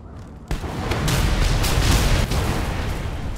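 A bomb blows up in the Mad Max video game, a sudden loud burst followed by a sustained rumbling roar of debris and fire that fills the whole moment without any talking.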